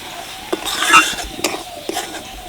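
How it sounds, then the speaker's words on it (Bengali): Semolina is stirred in ghee in a pan, with a spatula scraping and clinking against the metal in short irregular strokes over a faint frying hiss, close and fairly loud. "সুজিটা ভালো করে ভেজে নেব"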